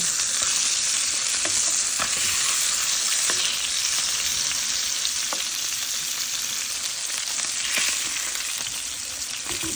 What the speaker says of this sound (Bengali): মাছগুলো হালকা ভেজে তুলে নেব।